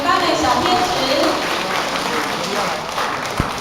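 An audience claps in steady, dense applause at a Buddhist hall's elderly birthday celebration as children arrive to perform, with voices talking over the clapping throughout.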